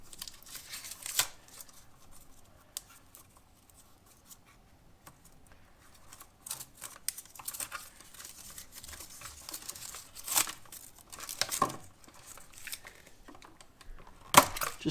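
Paper wrapping is torn and pulled back from the bare ground wire of an electrical cable during basement rough-in wiring, quiet scattered crinkling and rustling with a few sharper rips, close up.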